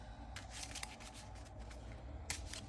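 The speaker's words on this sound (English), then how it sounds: "Shuffle this back up" Deck of game cards for Marvel Champions being shuffled by hand close up, soft riffling bursts and light slaps at a quiet level.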